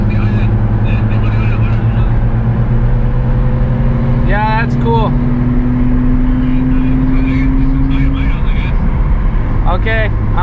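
A Nissan 350Z drives at night, its engine a loud, steady drone that slowly rises in pitch, with brief chirping sounds over it.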